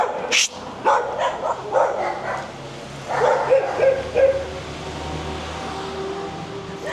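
A dog barks and yips in several short bursts on a street in the Recoleta neighborhood of Asuncion, Paraguay, close by, with faint traffic and a voice in the background.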